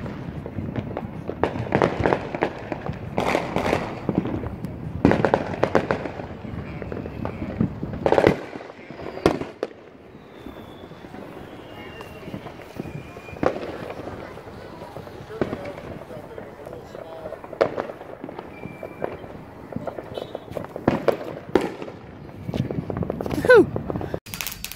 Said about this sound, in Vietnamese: Trên đường đi qua nhà nhỏ em mình đốt pháo